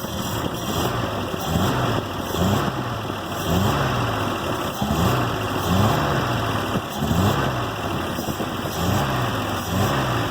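A 1942 Pontiac two-door sedan's carbureted engine idles steadily up close, a low rumbling drone with a slightly uneven, loping pulse throughout.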